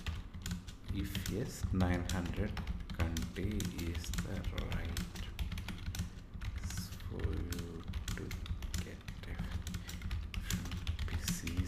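Rapid clicking of a computer keyboard runs continuously at close range beneath a voice speaking over it.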